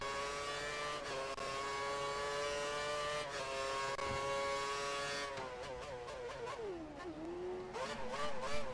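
A Formula 1 car engine screams in the F1 2013 racing game at an Australian Grand Prix qualifying session, with a loud, continuous high-pitched whine rising through gears, quick shift breaks and a dip and climb around a corner.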